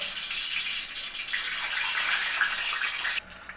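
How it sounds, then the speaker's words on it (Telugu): Eggs fry in hot oil for an Andhra biryani, a dense, even hiss of bubbling oil close by that cuts off abruptly near the end, with no voices. "ఎగ్స్ చూడండి బాయిల్ అవుతున్నాయి, పేలుతాయి, జాగ్రత్తగా చేయండి."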